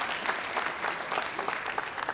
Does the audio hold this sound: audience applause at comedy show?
yes